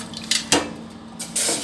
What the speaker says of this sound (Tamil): இப்போ 8 கப்பு இதில் தண்ணி ஊற்ற போகிறேன்.